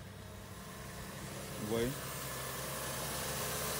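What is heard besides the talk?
2006 Toyota Highlander hybrid engine idling calmly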